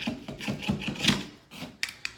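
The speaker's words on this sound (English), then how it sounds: "take your knife, cut it nice and close to the baseboard, just a hair high" A hook knife drags through carpet along a baseboard, giving a repeated rasping, scraping rub in short strokes close by, ending with two sharp ticks.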